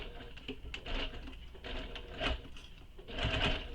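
A sewing machine stitches a curved, angular handmade handbag, its needle chattering in quick, uneven bursts that rise and fall, fairly close but quiet.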